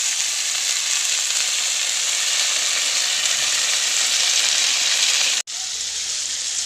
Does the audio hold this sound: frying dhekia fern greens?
yes